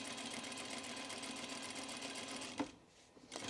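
A sewing machine stitches a Fairfield button-up shirt with a steady close whirring hum for most of the time, then stops with a soft click and a short quiet pause.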